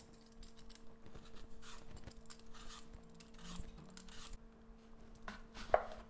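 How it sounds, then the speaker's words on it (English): Apples cut into quarters with a knife for an apple crumble filling, a string of soft, close chopping taps and scrapes on a board, quiet overall, with one sharper clack near the end and no talking. "Cut the apples into quarters, and then each quarter remove the cores"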